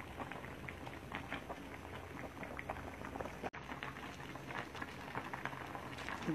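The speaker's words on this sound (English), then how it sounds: "I'm gonna put them in a boil" Seafood bubbling in a pot of boiling water with butter, a constant rolling burble close and moderately quiet, interrupted by a short cut partway through.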